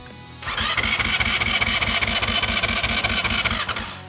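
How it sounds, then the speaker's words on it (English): A 2026 Honda CRF450X dirt bike engine is started with the clutch pulled in: the starter cranks, then the engine catches and runs at a steady, loud, rhythmic idle close by for about three seconds before cutting off. "I'm gonna hit the starter button for 3 seconds"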